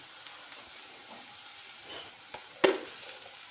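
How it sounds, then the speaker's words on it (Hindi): Omelette ingredients frying in a pan, a soft continuous sizzle heard up close, with one sharp clink of a utensil near the end and no talk. "इन तीनों चीज़ों को हम सही तरीके से फ्राई करेंगे।"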